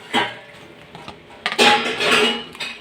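Raw chicken goes into a bowl for a restaurant-style chicken masala curry, with a few close clinks and clattering knocks of pieces and utensil against the dish, in two brief bursts.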